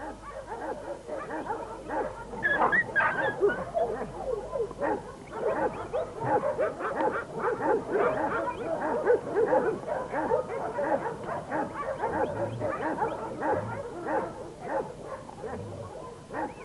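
Several dogs yip, bark and whimper continuously in a large bush-clad breeding compound on a dog farm, a busy overlapping chorus of near and far voices with no talk.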